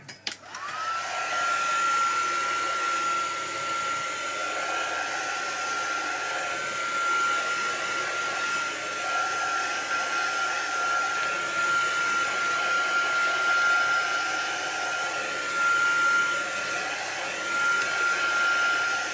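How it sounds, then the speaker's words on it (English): A heat gun blows hot air in a steady, loud whooshing roar with a faint high whine, running continuously after a brief start, used on a homemade circular art journal. "Bring the heat gun in."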